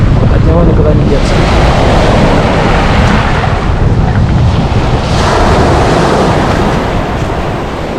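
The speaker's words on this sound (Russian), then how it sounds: "Но, увы, ветер как бы от него никуда не деться." Strong sea wind rushes at the Lazarevskoye shore, buffeting the microphone in a dense, loud roar mixed with surf, steady throughout with no voices.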